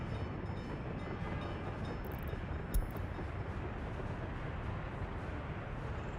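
A train passing in the Workers and Resources city-building game, a constant low rumbling roar with a brief sharp knock partway through, steady and moderately loud.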